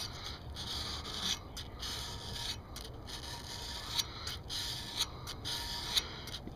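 Double-aught steel wool rubs against an axe head in short, steady scratchy strokes, each with a brief pause between, up close and fairly quiet.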